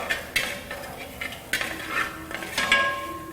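Country chicken sukka being sautéed in a pan, a spoon scraping and knocking against the metal in irregular strokes over a soft sizzle, close by with no talking.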